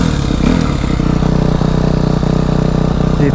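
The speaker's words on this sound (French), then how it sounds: "On laisse chauffer un peu la moto." A Suzuki RM-Z 250 motocross bike idles steadily while warming up, its engine giving a loud, even, rapid thumping beat close by that runs on without a break.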